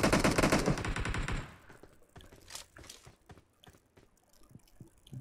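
Video game gunfire: a loud, dense automatic burst fills the first second and a half, followed by scattered fainter shots and clicks with no talking.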